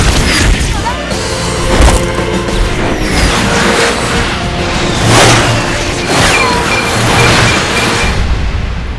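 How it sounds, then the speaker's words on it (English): A heat-seeking missile strikes a car and explodes in the Death Race film, a loud booming blast with crashing debris and engine roar amid dense action sound, with further thuds following. "The explosion kills Bill's pit crew"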